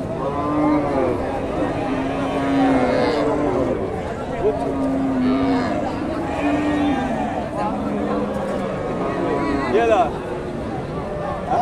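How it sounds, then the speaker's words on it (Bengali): A dairy cow, a Sahiwal-type cow at a rural Bangladeshi livestock market, lows several times in drawn-out calls beneath continuous nearby talk and crowd noise. "এই যে গাভী।"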